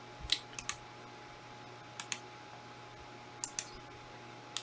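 A computer mouse clicks while someone works in Rhino 7 modelling software. Crisp, quiet clicks come close together, some in quick pairs, spaced over a few seconds against a low hum.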